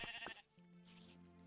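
Minecraft sheep let out a couple of quick bleats close up, followed by a drawn-out, quieter bleat under soft game ambience with no talking.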